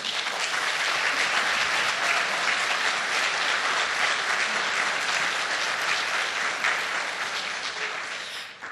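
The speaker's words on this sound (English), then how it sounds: "give a round of applause to Sylvia Strobel" At a community media conference opening plenary, the audience breaks into thick, continuous applause, loud and even for several seconds before fading off at the close.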